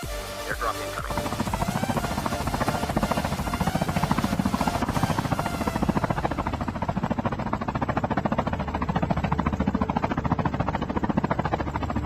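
Helicopter in a Call of Duty Mobile battle royale match, a steady loud rotor drone with rapid chopping pulses running throughout, with game effects and a voice talking over it.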